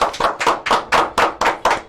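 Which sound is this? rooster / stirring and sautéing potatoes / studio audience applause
studio audience applause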